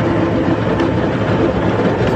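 Inside a moving passenger train, a steady loud rumble of wheels and carriage noise fills the whole stretch without pause.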